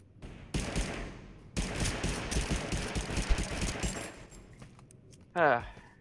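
Rapid M16 gunfire in the game Totally Accurate Battlegrounds rattles in sustained automatic bursts for several seconds, fairly loud, before dropping off, followed by a short metallic clink.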